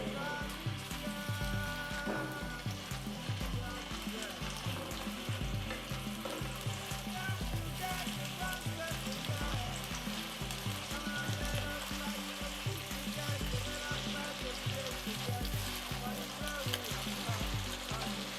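Ginger and garlic paste with onions frying in a pan for a beef dish, with a low continuous sizzle under rhythmic music throughout.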